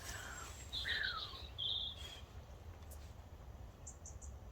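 Faint chirps and short trilling song phrases from a sparrow or robin come in a few scattered bursts, distant, over quiet outdoor ambience in a garden.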